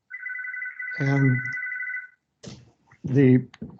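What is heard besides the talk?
phone ringing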